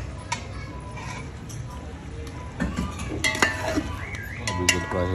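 A spoon scrapes and clinks against a cooking pot as boiled meat from a yakhni stock is stirred, with a soft sizzle beneath. Several irregular knocks grow busier toward the end.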